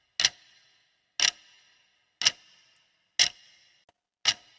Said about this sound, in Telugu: Answer is గడియారము.